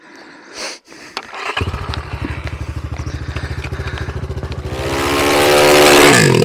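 Enduro motorcycle, a Regul Moto Sport or Ataki 300, sputters to life after a few clicks, idles in a rapid loud putter, then revs up into a rising roar near the end.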